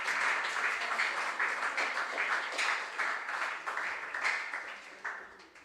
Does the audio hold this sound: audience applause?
yes